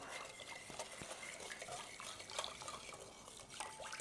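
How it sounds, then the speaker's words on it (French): A whisk works through vegan chocolate cake batter in a bowl, a faint, steady wet swishing with light scrapes and clicks against the sides. "il faut fouetter ça ensemble"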